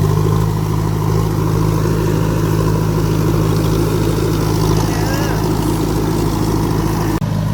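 Combine harvester engine droning steadily and loud while working a rice field, a constant close mechanical hum with a strong low tone, and people talking over it.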